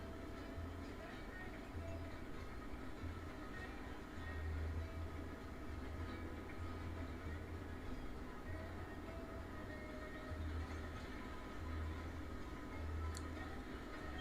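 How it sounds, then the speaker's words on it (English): Trains rolling on rails in the railroad game Railroads Online, a steady low rumble with rhythmic clatter running throughout, moderately loud, with a faint click near the end. "you should be able to hear trains before you see them"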